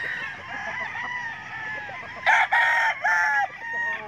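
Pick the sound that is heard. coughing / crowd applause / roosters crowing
roosters crowing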